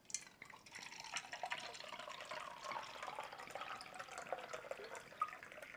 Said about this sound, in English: Watch what happens when we add the Kangen micro-clustered water.